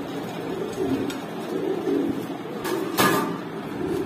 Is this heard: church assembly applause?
no